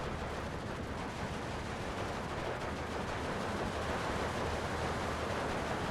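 A BA-10 armoured car in Steel Division 2 fires on a sniper, producing a dense, continuous rattle of gunfire mixed with other battle noise in a steady, noisy wash.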